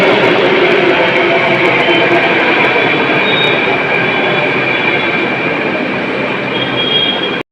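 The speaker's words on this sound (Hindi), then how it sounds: "तो ये हमारी मेट्रो आ गई पहली बात तो" A Delhi metro train pulls into the station with a loud, continuous rumble of wheels and carriages, thin metallic squeals riding above the roar, sustained close by until it cuts off abruptly at the end.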